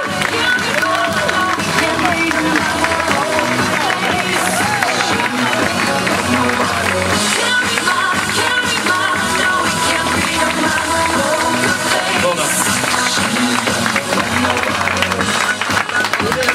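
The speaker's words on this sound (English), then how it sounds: "thank you very much for all the applause" A crowd at a poker awards night applauds an award winner, loud continuous clapping with cheering voices mixed in, filling the room throughout.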